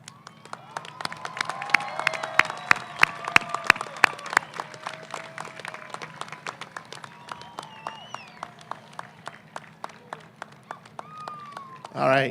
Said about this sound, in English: Class of 2018, please stand, turn, and applaud your parents and families for all they've done to get you here.